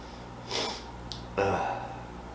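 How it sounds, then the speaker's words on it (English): Two short, wet sniffs, the second louder and sharper, separated by a brief pause in a quiet room. "maybe that's causing my little sniffles here"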